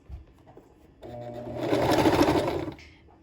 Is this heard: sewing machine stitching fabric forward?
yes